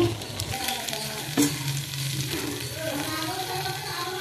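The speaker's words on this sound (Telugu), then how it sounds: "మనం ముందుగా కడిగి పెట్టుకున్న నానబెట్టుకొని ఉంచుకున్న బియ్యం, పెసరపప్పు వేసుకోవాలి" Soaked rice and moong dal tipped into onions frying in a pan for kichidi, bringing a steady close sizzle with stirring scrapes and a brief clatter as they go in.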